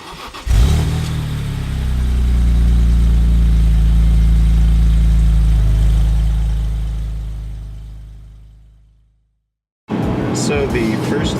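A BMW E46 M3's S54 engine revs into a loud, sustained roar, then slowly winds down to silence before a voice begins speaking.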